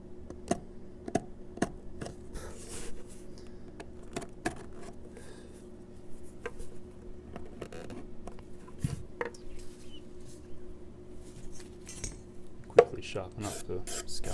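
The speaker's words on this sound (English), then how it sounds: "Sharpen up the scalpel tip." Scalpel tip being sharpened on a stone in a guitar workshop, a faint series of short, irregular scraping strokes with small clicks and quiet pauses between them.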